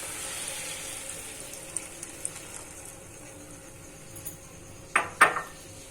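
Milk poured into toasted semolina in a cooking pan gives a faint, steady liquid wash with light clinks, then two brief louder splashes near the end.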